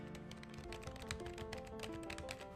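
Quiet, rapid typing on a soft-touch 2015 mechanical keyboard with non-clicky keys, a dense run of muted keystrokes heard close and alone.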